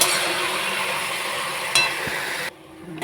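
Jute greens frying in a pan with turmeric, salt and a little sugar, giving a steady broadband sizzle with a spatula scrape partway through, before the sound drops sharply near the end.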